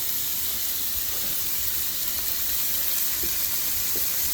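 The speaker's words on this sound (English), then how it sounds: "We got this broth cooking." Beef broth for homemade chili simmers on a stovetop, giving off a steady, even hiss and soft bubbling that stays at one level throughout, with no voices.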